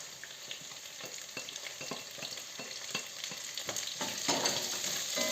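Meat and onion sizzle steadily in a hot pan, with frequent stirring scrapes and clacks that grow louder and busier toward the end. No one speaks.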